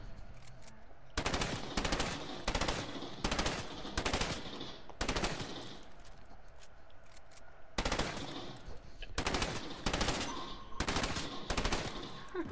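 Repeated bursts of rapid automatic gunfire in a Prop Hunt video game, loud and close, coming in several volleys separated by short pauses, with faint talk underneath.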